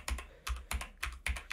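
Typing on a Keychron K2 mechanical keyboard with red switches: close, crisp key clacks with thocky low bottom-outs, about six strokes in an uneven quick rhythm, alone.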